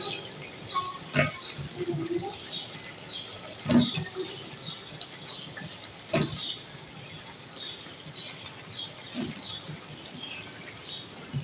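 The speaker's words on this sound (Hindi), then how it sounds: "मैं इसमें ये डाल दूंगी लौकी।" Pieces of bottle gourd (lauki) go into frying masala in a pan for a chana dal lauki dish. A soft, steady sizzle is broken by a few sharper bursts as the pieces land.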